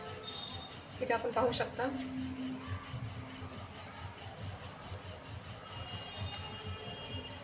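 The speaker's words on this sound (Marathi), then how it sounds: "लाटून घेणार आहे हलक्या हाताने. एकसारखं असं लाटत राहायचं." Aloo paratha dough is rolled out with a rolling pin in soft, rhythmic rubbing strokes, faint and steady, while someone speaks briefly.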